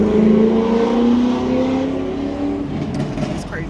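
A car revs loudly near a beach, the engine note rising and sweeping upward then falling away, followed by fainter traffic and brief chirpy sounds, with some voices in the background.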